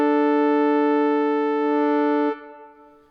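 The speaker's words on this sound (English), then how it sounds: "This is also called, here at the end, a perfect fifth." Two pure harmonic tones sounding together a perfect fifth apart in a 3/2 ratio, held steady and loud for about two seconds before cutting off abruptly and leaving a quieter decaying tail.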